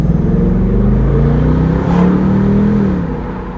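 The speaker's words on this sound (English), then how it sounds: "When you rev that engine, you can hear me coming for miles." Ford Mustang GT V8 engine revving up loud and close, a deep rising roar that swells near the middle and then eases off toward the end.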